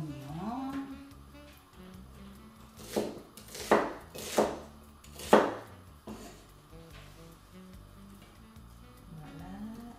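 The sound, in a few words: chopping onion with a knife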